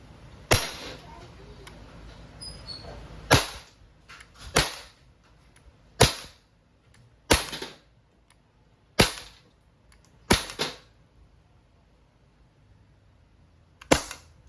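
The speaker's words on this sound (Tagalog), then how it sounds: "Glock 17 Gen 3 dual ammo airgun pistol. Firing." An Umarex Glock 17 Gen 3 dual-ammo airgun pistol fires eight sharp, close cracks at uneven intervals of one to two seconds, with quiet gaps between shots.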